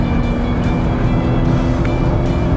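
A Nissan GT-R at full throttle on the Spa-Francorchamps circuit, engine roaring loud and continuous from inside the car with a steady, rising drone and no break.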